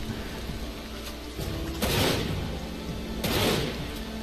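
Gunfire bursts in the video game Dirge of Cerberus: Final Fantasy VII, two heavier shots standing out over a continuous game background.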